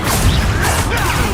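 A Confringo blasting spell strikes in the Hogwarts Legacy video game, giving loud, close crashing and whooshing bursts of impact noise with no talking.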